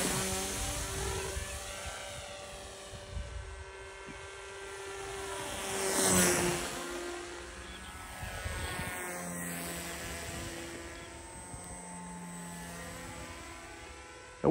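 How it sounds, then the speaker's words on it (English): A small autonomous long-range FPV model airplane flies past, its electric motor and propeller whining steadily and rising and falling in pitch with Doppler sweeps, loudest as it passes close by midway. "the way you see this plane fly was exactly how it went at the maiden flight"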